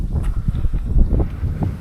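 Gusty wind buffets the microphone in low, uneven rumbles, with soft thumps and rustling mixed in throughout.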